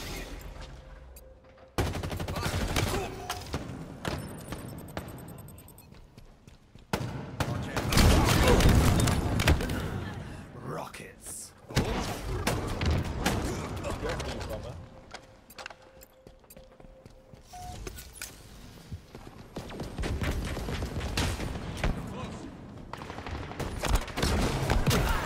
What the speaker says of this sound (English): Rockets galore